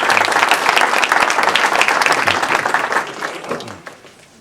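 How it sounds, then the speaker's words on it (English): A presentation audience gives a round of applause for supporting board members, loud and dense with many hands clapping together, then thinning and fading toward the end. "So let's give them a round of applause."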